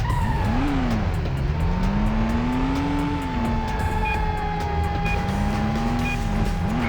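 A car in a racing video game snaps through a handbrake turn, its engine whining up and down in pitch while tires skid and squeal underneath, loud and close throughout.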